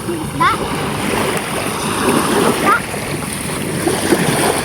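Many children splash while swimming in the sea near a shore. Scattered watery splashes sound over steady wave and wind noise as people talk nearby.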